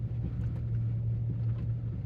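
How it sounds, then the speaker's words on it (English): A light truck idles slowly over a rough, rutted dirt road on its tires, giving a steady close low engine drone with no change in pace. "I'm just idling through this mess with these tires."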